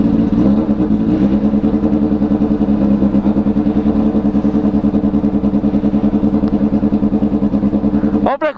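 A green Honda Hornet motorcycle engine idling and revving steadily up close, a loud throbbing rumble throughout, with a brief sharper burst at the end.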